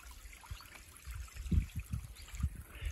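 A small stream of clean water flows near an old homestead house, giving a quiet, close trickle with soft gurgles and dribbling pulses that stand alone without talk.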